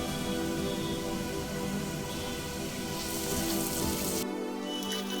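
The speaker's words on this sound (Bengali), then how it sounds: "নেড়ে চেড়ে পেঁয়াজ রসুন একসঙ্গে মিডিয়াম ফ্লেমে হালকা লালচে করে ভেজে নেব" Onion and garlic paste frying together in a pan over a medium flame, giving a steady, dense sizzle that fills the clip before thinning out near the end.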